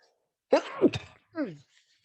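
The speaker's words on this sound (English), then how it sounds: "Excuse me for sneezing, man." One sharp, close sneeze bursts out, followed by a short voiced sound, then quiet.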